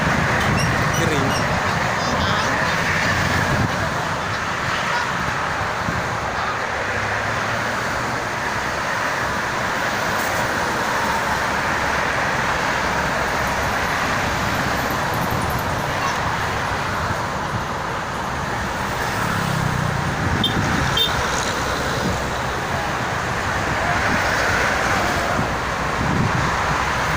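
Busy traffic on the Jakarta-Cikampek toll road makes a continuous broad roar of passing vehicles with wind buffeting the microphone and swells as cars go by.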